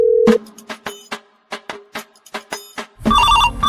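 Telephone ringing, a sustained tone followed by a run of rhythmic, evenly spaced electronic rings, then a brighter melodic ringtone burst at the end, close and clear.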